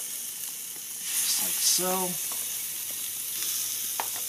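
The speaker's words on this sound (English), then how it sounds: "Oh, and it sizzles," Lamb chops sizzle steadily on oiled grill grates, a close hiss that swells as the meat goes down, while a person speaks briefly over it.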